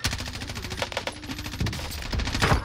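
Dense automatic M4A1 rifle fire rattles in rapid, continuous bursts during a Warzone match on Rebirth Island, loud and close with overlapping shots throughout.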